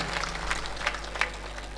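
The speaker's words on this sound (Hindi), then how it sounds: "एक बार जोरदार मन भर के ताली बजा दीजिए" Audience applause at an all-India Hindi poetry gathering, a soft, steady patter of clapping from a crowd over a low hum.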